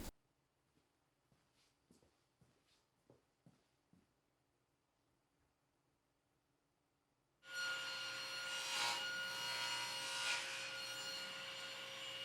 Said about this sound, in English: she then started very carefully making cuts to the scribe lines, without going over